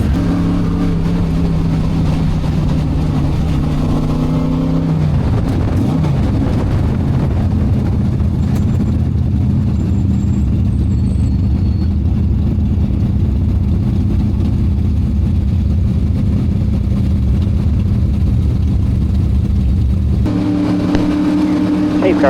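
A race car engine fires up before a race: a steady idle shifts pitch after a few seconds, runs as a loud, continuous rumble, then changes tone again near the end, with faint voices nearby.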